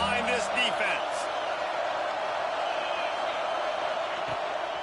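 Crowd noise swells in a football video game as fans roar behind the defense on a big third down, a steady broad wash of cheering from a packed stadium with commentary over it and a few thuds.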